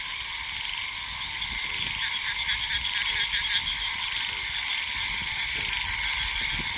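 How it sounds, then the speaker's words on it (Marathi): A dense chorus of frogs croaks steadily and loudly throughout, a continuous layered calling at night with no talking over it. "आपल्या बेडकांचा आवाज पण कसला येते भारी"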